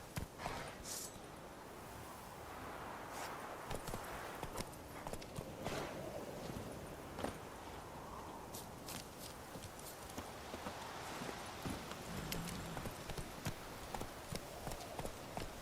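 Roach the horse's hoofbeats in The Witcher 3 video game, a steady walking clip-clop of hooves on a road, moderately close and continuous over ambient outdoor background.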